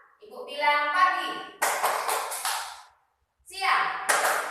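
A group in a classroom ice-breaking game bursts into sharp, close clapping between stretches of a voice, with a few quick clap bursts and then a pause before she speaks again.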